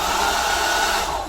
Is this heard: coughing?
no